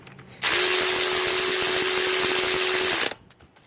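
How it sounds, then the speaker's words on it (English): A Snap-on electric ratchet whirs loudly and steadily for under three seconds while tightening A/C compressor bolts on a Honda Ridgeline, starting and stopping abruptly. "Electric ratchet from Snap-on."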